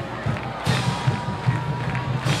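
A high school football crowd at a South Kitsap Wolves versus Walla Walla Blue Devils game in 1998 roars and cheers after a running play, a distant, steady swell of voices.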